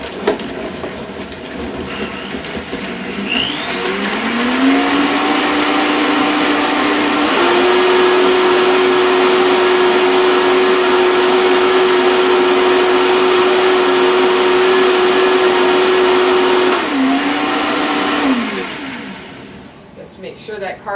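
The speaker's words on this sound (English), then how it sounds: "I'm just going to turn it on with the Vitamix until it's blended." Vitamix blender blending a moringa drink with cardamom, a loud whining roar that ramps up, holds steady for over ten seconds, then winds down.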